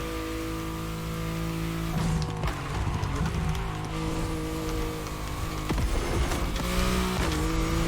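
Meta street race cars in The Crew Motorfest roar with a steady, high-revving engine drone. Sharp gear shifts and brief tire squeals break in several times, with no talk over the racing.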